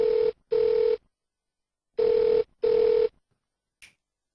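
A telephone rings loudly and close in a domestic scene from a Hindi TV drama: two double-ring bursts separated by a pause, followed by a faint click.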